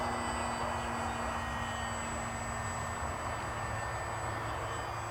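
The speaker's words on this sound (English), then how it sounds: "I'm just having a nice easy flight just to make sure that the plane is still in trim" An E-flite M7 Maule model airplane flies at a distance, a steady faint electric whine with a constant tonal hum over broad background hiss, unchanging throughout.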